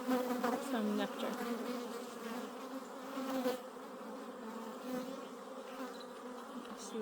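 Honey bees buzz all around an open hive during an inspection, a dense, steady close-up drone that swells louder at the start and then settles.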